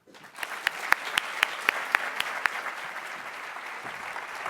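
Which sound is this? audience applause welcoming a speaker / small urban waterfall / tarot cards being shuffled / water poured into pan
audience applause welcoming a speaker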